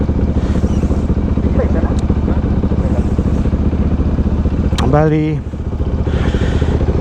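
A Bajaj NS200 motorcycle rumbles steadily on a test ride in Albay, Bicol, with wind buffeting the microphone. A horn sounds briefly partway through, and a voice is heard faintly.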